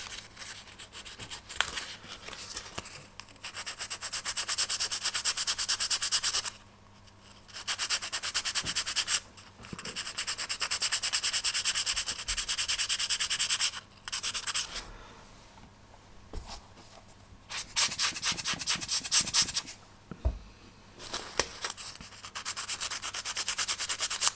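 Close, rasping sanding strokes on the wooden jaw parts of a Vanguard Models HM Sherbourne ship model kit, coming in bursts of rapid back-and-forth rubbing separated by short pauses, with no talking.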